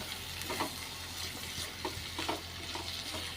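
Bottle gourd sautéing in a pan, a quiet sizzle with a few soft stirring scrapes over a low steady hum, faint and close.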